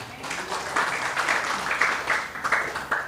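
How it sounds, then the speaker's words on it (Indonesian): Congregation applause at a Christmas church service, a moderate wash of clapping that keeps steady for a few seconds with slight surges. "Tepuk tangan untuk Tuhan."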